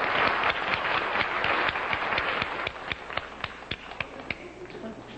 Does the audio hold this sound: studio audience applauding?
yes